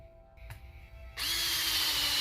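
A power drill starts up and bores into a log being prepared for growing shiitake mushrooms, giving a loud, steady whine that runs unbroken to the end after a short quiet handling sound.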